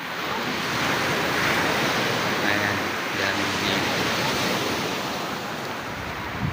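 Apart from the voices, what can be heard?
ocean waves on a beach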